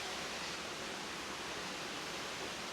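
A dense, even roar of falling water, close and constant, with no other sounds.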